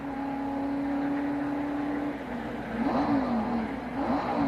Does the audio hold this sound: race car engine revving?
yes